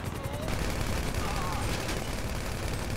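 Continuous gunfire in GTA Online, a dense crackling fusillade with rapid overlapping shots and no clear gaps, steady and fairly loud under a noisy game mix.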